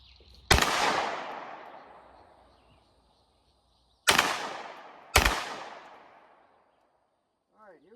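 An MP5K clone (FRT) fires three semi-automatic shots downrange at a target: loud, sharp cracks, the first alone, then two more a second apart, each with a long fading echo, and no voices.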